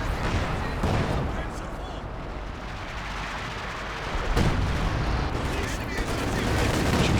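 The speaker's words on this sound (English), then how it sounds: "That's firing in the south." Gunfire rattles through a Company of Heroes 2 World War II battle, with dense overlapping shots and sharper bangs rolling on continuously. A commentator talks over the shooting.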